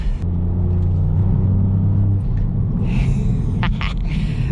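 A Ford Fiesta ST driven on a narrow road, its engine a steady loud rumble and whir from inside the cabin that holds throughout, with a brief higher surge near the end.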